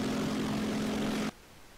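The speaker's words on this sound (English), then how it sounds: "is a Japanese plane, which I can hear now." A Japanese propeller plane engine in a World War II flight combat video game drones steadily with a strong tonal hum, then drops abruptly to a quieter background.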